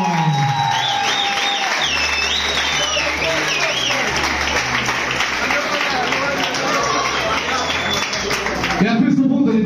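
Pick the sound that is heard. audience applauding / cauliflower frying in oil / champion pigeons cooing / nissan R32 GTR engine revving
audience applauding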